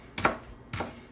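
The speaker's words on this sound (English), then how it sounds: "the onion is gonna get sliced very thinly in tiny little" A knife slices through an onion on a board for Russian pirozhki filling, two crisp close cuts about half a second apart with quiet between them.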